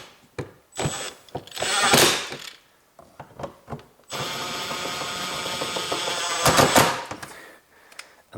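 A power drill driving screws into a rusty BMW side mirror assembly during repair: several short whirring bursts with clicks and pauses, then a long sustained whine, loud and close, with no talking.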